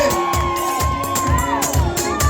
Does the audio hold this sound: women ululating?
yes